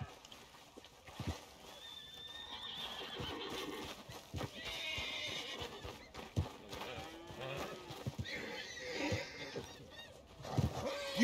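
A horse in Red Dead Redemption 2 whinnies loudly near the start, and hooves clip-clop off and on through the rest, with faint speech in the background.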